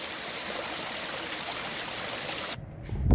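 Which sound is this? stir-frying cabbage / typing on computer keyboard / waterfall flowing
waterfall flowing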